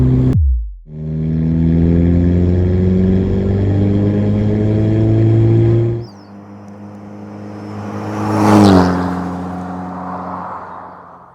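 A car with a homemade stainless steel exhaust runs loud and steady close by, cuts out, then rises in a brief rev before settling to a lower idle.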